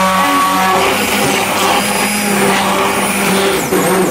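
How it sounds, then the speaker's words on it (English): A blender whirs steadily at close range, grinding lentils for Turkish lentil soup in a home kitchen, with a loud continuous motor drone and no speech. "now we're just going to put our lentils through a blender"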